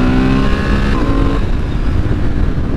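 A Honda parallel-twin motorcycle with a 270-degree crank revs hard and close, its loud, peaky engine note rising and falling continuously with no voices.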